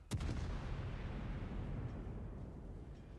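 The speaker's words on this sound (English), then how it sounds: "I'm just shooting this Missouri constantly" A heavy naval gun salvo from the battleship Moskva in World of Warships, fired at a Missouri: one sharp boom at the start, then a low rumbling roar that lingers and slowly fades, with no voices.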